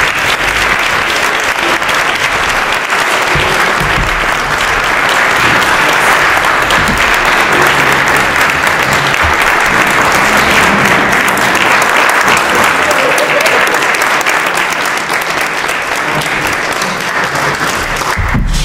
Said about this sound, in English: I'd like you all to just please give her a special round of applause.